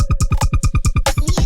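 A simple synth layer for a snare drum in a production sounds as a fast, rhythmic pattern of punchy pulses with buzzy, gritty tops, loud and alone, ending in a brighter noisy burst.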